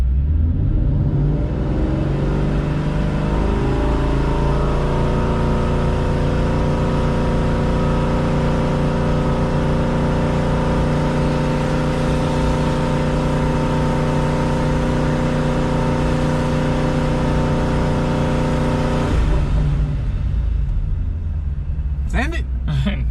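A supercharged 2017 Mustang GT with a Paxton supercharger idles and revs during tuning, a loud rumbling engine climbing and holding steady RPM before dropping off near the end, followed by a few sharp clicks.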